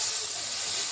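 Hot oil sizzles in a pan as eggplant slices fry for a neem-and-eggplant dish, a bright, continuous hiss that is close and steady, heard briefly on its own.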